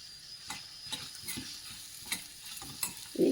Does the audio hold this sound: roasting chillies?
yes